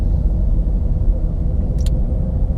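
A Chevy Cruze engine runs with a steady low rumble from inside the car, close and continuous, with no talking.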